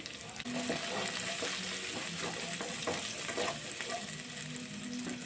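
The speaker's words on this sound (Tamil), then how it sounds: "பூண்டை சேர்த்து லைட்டாக இந்த மாதிரி வதக்கி வச்சுக்கோங்க" Garlic and curry leaves sautéing in a hot pan give a steady, close, loud sizzle with stirring scrapes throughout, no talking.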